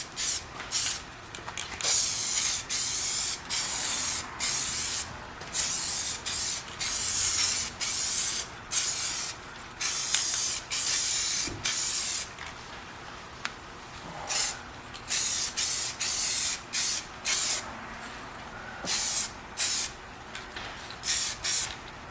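SEM bumper paint sprayed onto 1986 Mustang GT headlight buckets as a third coat, a close hissing spray in repeated bursts of a second or two separated by short pauses.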